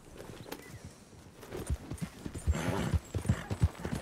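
Horse hooves in Red Dead Redemption 2, starting as scattered steps and building into a steady, fairly close clip-clop rhythm of repeated thuds. No one speaks.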